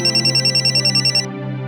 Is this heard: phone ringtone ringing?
yes